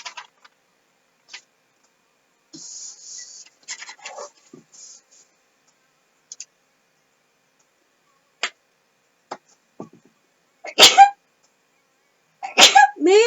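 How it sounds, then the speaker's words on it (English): Two sharp sneezes burst out close to the mic near the end, after a stretch of quiet scattered ticks and light scratches from someone cutting fabric pieces for a queen-sized quilt. "Man, something is making me sneeze"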